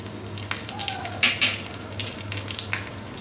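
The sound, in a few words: dry red chilli and black cumin sizzling in hot frying oil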